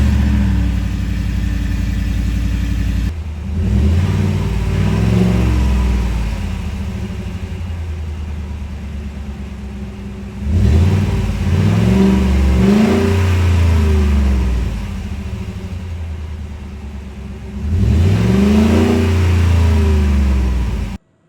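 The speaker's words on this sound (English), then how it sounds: "We'll do a couple revs with the stock exhaust." A 2013 Ford F-150 Raptor with its 6.2 liter V8 and stock exhaust idles with a deep, steady rumble. The engine is revved hard three times, each rev a loud, swelling roar that falls back to idle.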